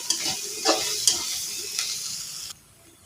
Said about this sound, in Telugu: కొబ్బరి వేసేసుకోవాలి వేసుకున్నాక మొత్తం అంతా బాగా కలిసేలాగా కలుపుకోవాలి